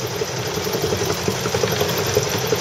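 A small sailboat's inboard engine runs flat out at full throttle, a steady close mechanical drone with a fast rhythmic throb and a constant high whine, heard alone without voices.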